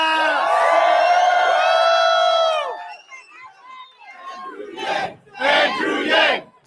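A big Las Vegas rally crowd roars and cheers loudly for the first few seconds. The noise fades into scattered voices, then swells again in two loud bursts of shouting near the end.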